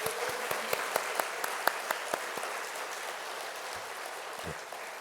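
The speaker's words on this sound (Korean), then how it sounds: "우리 한번 박수로 한번 격려할까요?" Church congregation clapping to encourage Sunday school teachers during an afternoon service, a run of sparse, distinct claps at moderate distance that thin out and fade after a couple of seconds, with no talk over them.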